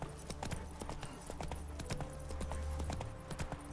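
A horse's hooves clip-clop steadily in the video game Witcher 3, a faint, even walking rhythm under a low background drone.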